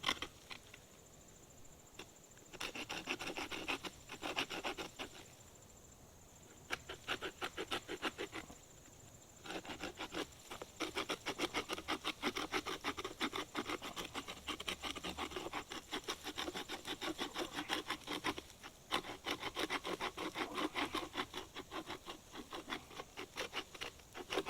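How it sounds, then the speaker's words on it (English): Straight-edge blade scraping against a tree trunk outdoors to make a mock deer rub: quiet, dense rasping strokes in quick repeated bursts with short pauses between them. "I'm going to take this straight edge, I'm going to put a little mock rub right here on this tree."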